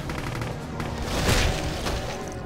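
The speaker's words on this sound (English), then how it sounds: "I'm shooting them." Dense gunfire from Brutal Doom in a co-op Stronghold match, loud, continuous bursts of shots with booming low end, no talking heard.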